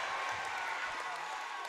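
A capacity crowd of schoolmates cheers on an eighth-grade middle school basketball team in a gym, a continuous moderate roar of voices and clapping with no distinct peaks.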